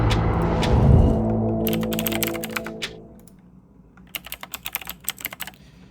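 Rapid keystrokes on a computer keyboard as an IP address is entered, coming in two bursts of clicky taps with a pause between, close and fairly quiet over a low background hum.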